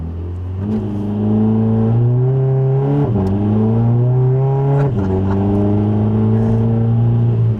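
A bagged, tuned turbocharged Volkswagen with a Euro-spec turbo revs up loudly to about 2,500 rpm and holds steady, its engine note climbing in stages with brief dips between pulls, close and continuous.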